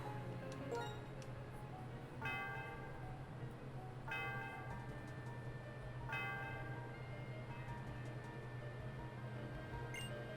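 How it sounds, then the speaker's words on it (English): Bell chimes in the Pokemon White video game, three bright ringing strikes spaced about two seconds apart over steady game music. "time to ring the dinner bell"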